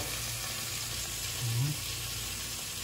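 Tamban fish frying in hot oil in a pan, a steady broadband sizzle holding close and even throughout, with a brief low bump partway through.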